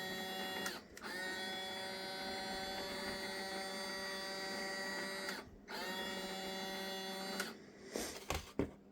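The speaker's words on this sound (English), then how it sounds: "So the 360 servo I have connected to this button right here, so you can turn it around." A 360 servo on a model snowblower whirs with a steady electric hum, stopping briefly twice and restarting, followed by a few small clicks and knocks at the end.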